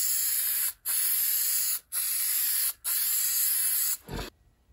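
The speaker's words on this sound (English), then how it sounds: "What I'm using is this 3M spray adhesive." Four bursts of 3M spray adhesive hiss from an aerosol can, each about a second long with short gaps between, the last one shorter and ending in a soft thump.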